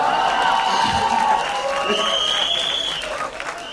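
Loud applause from a crowd at a film trailer launch event fills the space, with voices and cheers mixed in, gradually easing off toward the end.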